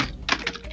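A computer keyboard is hit rapidly during a PC game session, giving a quick run of sharp, close clicks and clacks in uneven bursts over low room noise.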